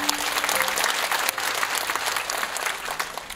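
Congregation applause during a church sermon, a dense and even wash of clapping throughout, moderately distant, with a faint low tone held underneath.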